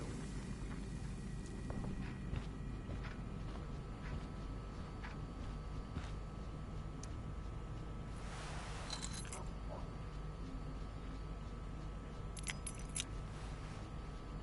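Keys jangle in the video game Life is Strange: Before the Storm, two short metallic rattles over a steady low ambient background of the game scene.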